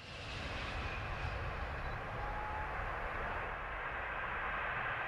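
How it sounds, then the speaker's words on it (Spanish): Airplane flying away overhead, a steady broad engine roar that stays distant and faint, with no voices. "nos llegó el sonido del avión que se estaba alejando hacia allá"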